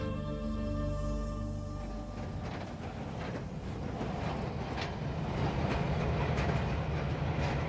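A train rolls past near the border town of Čop in Zakarpattia, Ukraine, a steady rumble with rhythmic clacking of wheels over rail joints that swells slightly as the carriages go by, with no voices.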